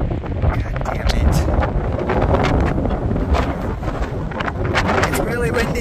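Strong gusts of wind batter the microphone in a loud, continuous roar of low rumbling buffets, steady for the whole stretch with no break.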